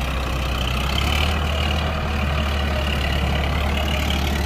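A Farmtrac 60 tractor with a 55 HP engine idles nearby in a steady, low, continuous rumble that holds an even level throughout with no voices.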